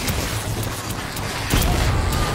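Dense, continuous crackling bursts of firework-like explosions fill the scene in the video game Infamous: Second Son, with a louder cluster of booms near the end and no clear talk.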